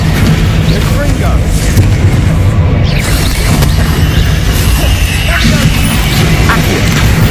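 A Confringo blasting spell explodes in Hogwarts Legacy, a loud, rumbling boom among repeated game blasts and crashes, with a voice shouting over the dense, continuous battle noise.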